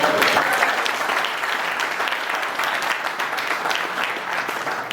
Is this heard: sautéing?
no